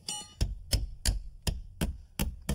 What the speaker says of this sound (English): Tap the shims in.